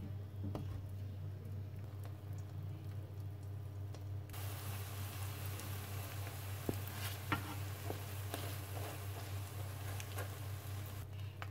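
A thin crêpe-like egg omelette frying in a pan, steady close sizzle with low hum underneath, the crackle brightening partway through, scattered small pops and stirring taps, no talk.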